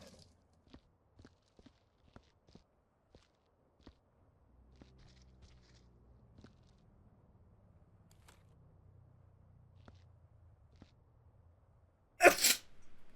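A single sharp, loud sneeze bursts out near the end from the character Fumimoko in the game Viscera Cleanup Detail, after faint clicks and a low background rumble.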